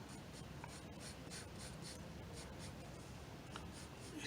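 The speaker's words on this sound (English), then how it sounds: "you can start just sketching it out a little bit" Pencil sketching a Witcher face on paper, a soft, close scratching with short rhythmic strokes repeating steadily over quiet background hiss.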